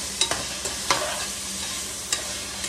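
Pork sautéing in a pan for pakbet, a steady close sizzle broken by a few sharp spoon scrapes and taps.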